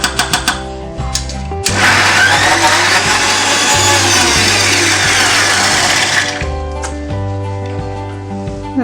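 A mixer grinder whirs loudly for about five seconds, grinding roasted coconut paste for chicken curry, with short pulses and clattering of the jar before and after the main run.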